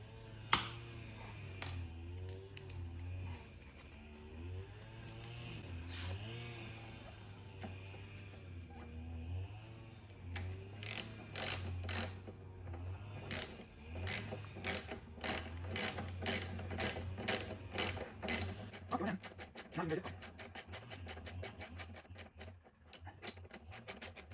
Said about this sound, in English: put some oil on it and some oil in the hole and see if we can self-tap this thing in